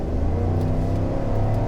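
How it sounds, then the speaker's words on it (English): A 2025 GMC Yukon XL Denali Ultimate SUV accelerates from a rolling start at about 50 km/h, its engine a steady, full rumble heard from inside the cabin with road noise and no talk. "we'll do a quick little acceleration here too"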